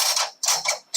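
A folding teak cockpit seat on a 2004 Hylas 54 centerboard sailboat clicks and clunks into its locked upright position: three loud, close mechanical latching sounds in quick succession, with no talking.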